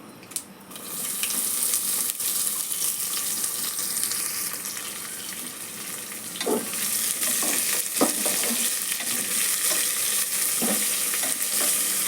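Chopped onions fry over a medium flame for moong dal khichdi with a steady, fairly loud sizzle, broken by occasional scraping and clinking stirs.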